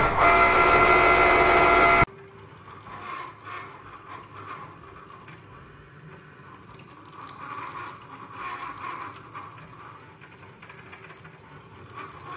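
A Cricut cutting machine slicing a photo for a spiral photo project, a steady low mechanical whir and ratcheting after a loud opening burst, continuing evenly at moderate level with no talk.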